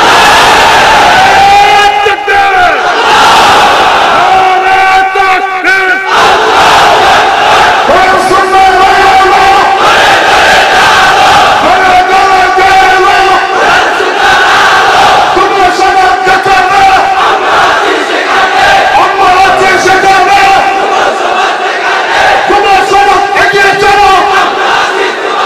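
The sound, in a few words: crowd shouting takbir (Allahu Akbar) at a religious sermon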